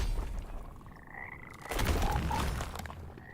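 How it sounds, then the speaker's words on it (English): Frogs croak in the video game Mortal Shell, low guttural calls that overlap continuously under a busy bed of game noise, fairly loud and close with a heavier swell midway. "Those frogs be dangerous"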